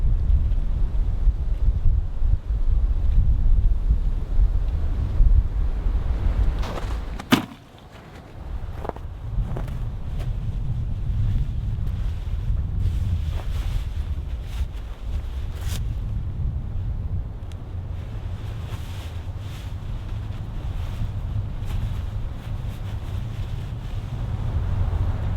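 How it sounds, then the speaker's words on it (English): Strong wind batters a snowy winter campsite and a large tunnel tent, a steady low roar with gusts and flapping, briefly dipping mid-way before building again, loud and continuous with no talking. "Within 30 minutes, the winds have picked up."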